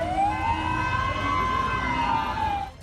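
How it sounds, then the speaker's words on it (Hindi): A single wailing siren from a Taliban vehicle on the streets of Kabul, rising and then slowly falling in pitch, loud and steady against low background rumble, fading at the end. "तालिबान जिस गाड़ी में आए उसका सायरन दूर से ही सुनाई दिया।"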